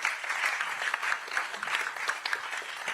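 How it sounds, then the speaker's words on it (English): Audience at an AI conference in Abu Dhabi applauding the guests, a steady patter of clapping at moderate distance that holds evenly for a few seconds with no voices over it. "I hope you give a round of applause to the great guests"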